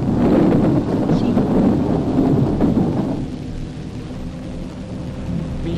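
Thunder rumbles loudly through falling rain, the heavy roll easing after a few seconds into a steadier, softer patter of rain.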